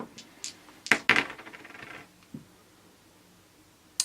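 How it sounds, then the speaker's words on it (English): Four dice rolled for a Magnificent Flying Machines board game, several sharp clattering hits on a hard surface followed by a short rattle as they settle, then a single late click, close and alone. "So I am going to take off with my 4 dice."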